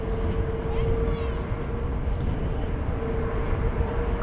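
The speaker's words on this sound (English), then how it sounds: "This is a 24-year-old 777-200ER. About to head to Hula Land." A 24-year-old Boeing 777-200ER jet at DFW Airport gives off a steady, loud engine roar with a sustained whining tone throughout, heard outdoors at a distance.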